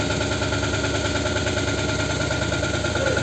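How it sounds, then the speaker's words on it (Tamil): A Force Minidoor van's engine idles steadily nearby, a constant low throbbing hum with even vibration and no voices over it. "நம்ம வண்டி அப்படியே ஸ்டார்டிங்கில் விட்டுருக்குறேன்"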